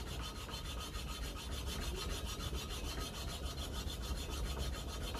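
A replacement tractor part for a 1957 Ferguson 35 TVO is rubbed flat on an abrasive sheet, giving a steady rasping scrape in quick back-and-forth strokes, close and fairly loud, with no talk.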